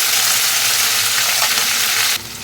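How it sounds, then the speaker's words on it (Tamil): Ground masala of onion, tomato and green chilli hits hot oil for a sardine fish curry, giving a loud, even sizzle that drops abruptly just before the end, with no speech. "பச்சை மிளகாய் சேர்த்த பிறகு நம்ம மிக்சியில் அரைச்சி வச்சுருந்த மசாலாவை இதில் வந்து போட்டுக்கலாம்."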